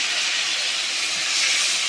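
Tomato dropped into hot oil for a pabda fish curry gives a steady, loud broadband hiss that holds evenly for the full two seconds, with no voices.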